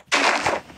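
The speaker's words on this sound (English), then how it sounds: "You put some TNT where he's gonna land and then explode it." A block of TNT detonates in Minecraft: one sudden, loud, blocky boom that cuts in sharply, rumbles briefly and fades within a fraction of a second.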